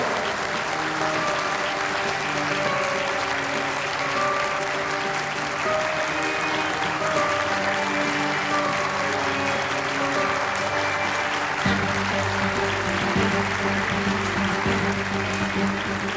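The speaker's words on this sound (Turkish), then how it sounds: "sizi ayakta alkışlıyorum" Sustained applause from a large crowd, dense and steady throughout, with a low musical hum underneath and a few scattered cheers.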